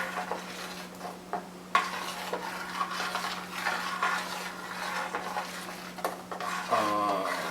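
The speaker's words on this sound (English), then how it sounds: "Give it a good stir." Homebrew beer mash being stirred in a brewing pot after the heat is cut, a continuous sloshing, scraping stir with occasional metallic knocks against the pot and a steady low hum underneath, close up with no talking.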